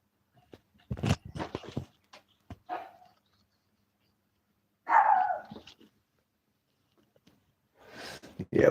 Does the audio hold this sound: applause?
no